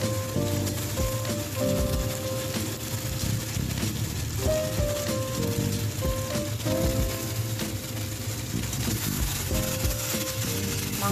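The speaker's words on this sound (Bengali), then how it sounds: "তো এবার মাংসগুলো এক এক করে দিয়ে দেবো।" Meat pieces go into oil with cooked spice masala and sizzle loudly and continuously, a close crackling fry running the whole time over a low layered background hum.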